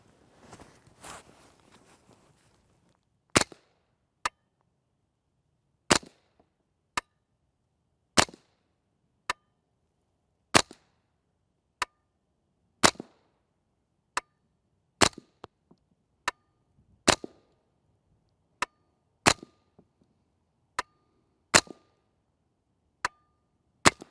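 Standard subsonic .22LR rounds fired from a Smith & Wesson M&P15-22 rifle with a 16-inch barrel and a JK Armament rimfire kit, a long series of about twenty sharp, quiet cracks spaced roughly a second apart, alone after a brief rustle.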